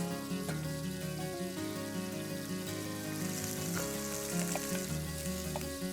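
Ghee, curry leaves, cashews and cooked rice fry together with a dense, even sizzle that holds steady throughout, close and alone with no voices.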